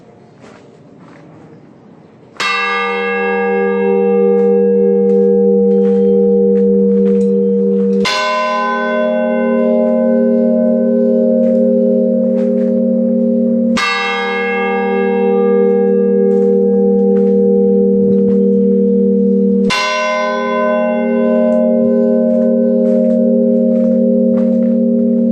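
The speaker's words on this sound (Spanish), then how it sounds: "el toque de muerto, pues el famoso clamor de cuando alguien muere, que suenan 2 campanas y van alternándose con unos segundos de diferencia" Two church bells tolling a death knell, alternating strokes every few seconds, each loud, ringing strike decaying in a long resonant hum before the next.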